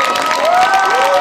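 A pageant audience at the Mrs. DC America 2013 crowning cheers and whoops loudly, with a brief, dense burst of crowd noise and high voices rising over it.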